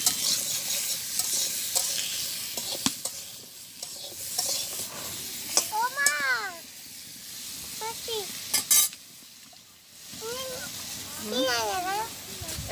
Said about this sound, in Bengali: এই যে পটল রান্না করি